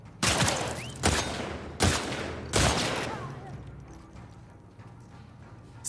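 Four loud gunshots from The Last of Us Part II, spaced about a second apart, each sharp crack trailing into a short reverberant decay before the scene settles into quieter background.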